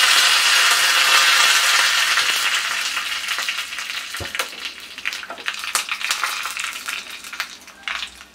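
Curry leaves fry in hot oil while tempering for Kerala cucumber pachadi, giving a loud, close sizzle that gradually fades into scattered crackles and sharp pops as the spluttering dies down, with no voices.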